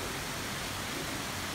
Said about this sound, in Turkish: Resmen parkın merdiveninden dere akıyor ya